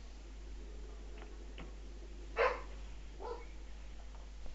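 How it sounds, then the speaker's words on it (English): A recorded dog barks once, clearly and at moderate distance, in an office, with a few fainter yips and clicks around it over a low steady hum. "I have a recording of a dog."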